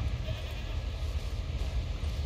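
A goat in the atmospheric video game Mundaun bleats faintly beneath a steady, rumbling wind-like ambience, a brief call buried in dense outdoor background noise.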